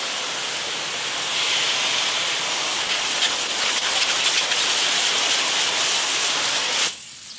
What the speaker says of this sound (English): you can grab your hose and you can rinse all this down